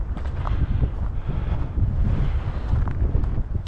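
Strong wind buffets the microphone during an outdoor walk on Mount David, a steady loud roaring rumble with gusty swells throughout and no talking.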